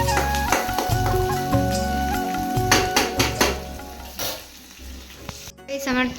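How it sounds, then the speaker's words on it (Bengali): Onions fry and get stirred in a pan in a home kitchen, a loud continuous sizzle with scraping stirs, while music plays over it and briefly breaks off near the end. "আমার পেঁয়াজ ভালোভাবে ভাজা হয়ে গেছে,"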